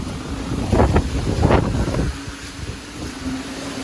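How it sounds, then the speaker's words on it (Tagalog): Strong typhoon wind buffets the microphone in heavy, uneven gusts, roaring loudly for a couple of seconds before easing to a steady rush. "Ang lakas ng hangin,"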